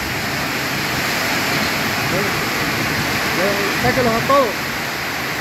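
Heavy rain pours down steadily during a thunderstorm, a dense, loud hiss that stays constant throughout while people talk briefly over it.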